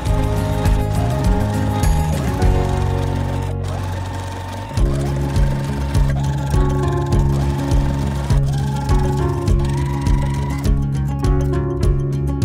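A sewing machine runs steadily while stitching quilt pieces together, a close, loud mechanical whir with a rapid needle rhythm that briefly slows and changes pitch midway before running on.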